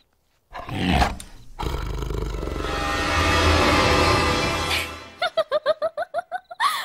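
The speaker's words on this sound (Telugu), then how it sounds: "పులి." A tiger roar in a Telugu film comedy scene rumbles loud and sustained for about three seconds, then gives way to a rapid series of short, rhythmic, laugh-like bursts.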